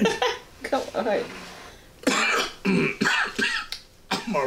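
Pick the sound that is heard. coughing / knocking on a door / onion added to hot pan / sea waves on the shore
coughing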